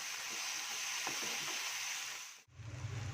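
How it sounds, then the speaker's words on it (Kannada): Green chili, garlic and cumin paste sizzles steadily as it fries in a pan, with soft scraping of a spoon stirring through it; the hiss cuts out abruptly near the end, then a low rumble follows. "ಈಗ ಮಿಕ್ಸ್ ಮಾಡ್ತೀನಿ."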